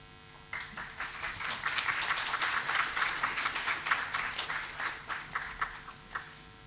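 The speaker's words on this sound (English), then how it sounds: "another round of applause" Audience applause fills an award ceremony hall as the National Icon Lifetime Achievement Award is presented, a steady dense clapping that starts abruptly, swells through the middle and thins into scattered claps near the end.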